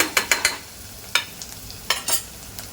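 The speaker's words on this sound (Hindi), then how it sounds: "प्याज को जलाना नहीं है, खाली थोड़ा सा हल्का सा लाइट ब्राउन करना है" Onions stirred in a pan as they fry lightly toward light brown, giving a few distinct scraping spatula strokes over a faint sizzle, with quiet gaps between the strokes.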